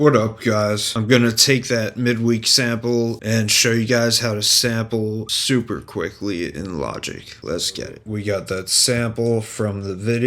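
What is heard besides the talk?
None of the usual background noises is heard.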